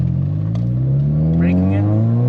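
A 2013 Mitsubishi EVO X fitted with a bigger turbo pulls hard, its engine note climbing steadily and loudly up close, with voices talking over the roar.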